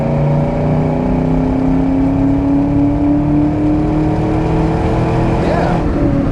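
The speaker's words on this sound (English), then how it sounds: "pulls well in the upper RPM range. Sounds good again with those Flowmasters" A 1998 Ford Mustang Cobra convertible with its 4.6 V8 and five-speed manual pulls hard through the upper revs, the Flowmaster exhaust droning in a steady rising tone, heard from inside the car.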